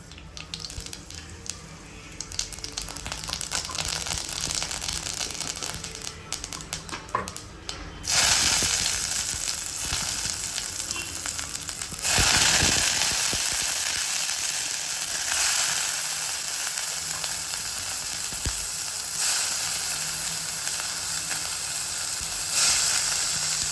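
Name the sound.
tempering sizzling in a kadai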